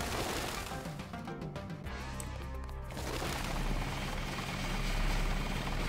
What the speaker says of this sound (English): we're still getting the helicopter noise